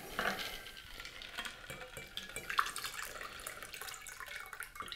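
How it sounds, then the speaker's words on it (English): A SouthSide cocktail with homemade mint simple syrup being poured, a steady liquid splash with clinks of glass or utensils, fairly close and continuous for about five seconds with no talking. "So let me pour it up."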